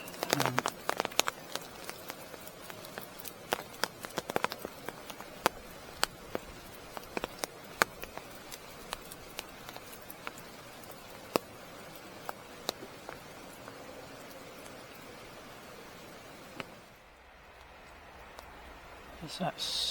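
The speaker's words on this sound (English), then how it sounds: "you can hear all that plopping. That's the trees above just shedding the water." Water dripping and plopping from trees onto a pool and ground at Offord car park just after rain, scattered sharp drops at an irregular rhythm, some near and loud, over a soft steady background.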